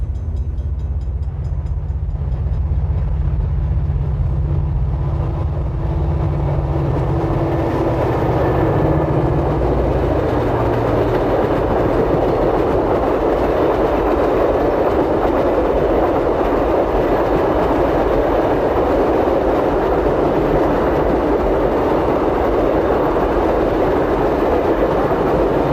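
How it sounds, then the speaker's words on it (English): Overnight Melbourne Express from Sydney, a 16-car train headed by diesel locomotive G518, roars through a rail junction near a summit, with heavy low engine rumble giving way to sustained loud wheel and carriage noise as it passes close by. "Roaring through the junction on time at 7:55 is the Melbourne Express."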